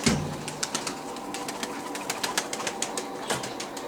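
Pigeons coo softly at moderate distance around a rooftop coop, with low repeated calls and scattered sharp flutters and taps of wings.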